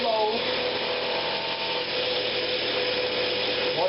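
Woodturning lathe tool hollowing the inside of a wooden box, a steady close scraping and rubbing hiss over the lathe's hum, without talk.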